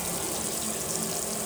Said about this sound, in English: So I'll turn the hose on,